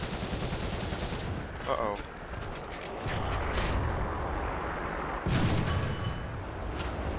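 Gunfire from an armed go-kart in a video game, with rapid bursts of shots and a loud boom near the end over constant engine rumble. A voice briefly speaks once.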